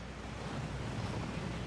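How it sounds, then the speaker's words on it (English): Waterfall inside a Gringotts vault in the Hogwarts Legacy video game, a steady broadband rushing of water with no pauses, moderately quiet and heard alone. "That waterfall washes away all enchantments."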